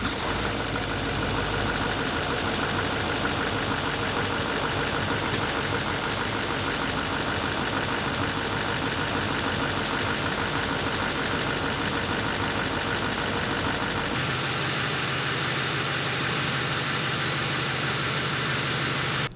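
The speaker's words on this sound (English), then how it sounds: "after you've got your line hooked up, reservoir is full, fire the truck up" A Chevy Silverado Duramax diesel truck idling during a hydro boost replacement, a steady close engine drone with a constant noisy hum throughout and a shift in tone near the end, no talking.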